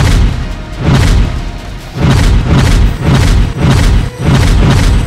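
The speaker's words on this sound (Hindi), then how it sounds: "मिर्ची बम मारो" Mirchi bomb firecrackers going off in a Bollywood film scene, a series of loud booming blasts, about five in quick succession with rumbling tails.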